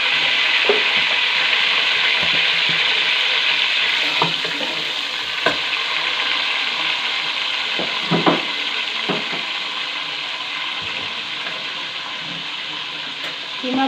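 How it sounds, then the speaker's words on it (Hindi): A chopped medium-sized onion fries in a hot pan with a loud, steady sizzle. Occasional stirring knocks and scrapes break through it, and there is no talking. "अब एक मीडियम साइज़ की प्याज जो हमने काट के रखी है उसको हम डालेंगे और इसको अच्छे से भून लेंगे"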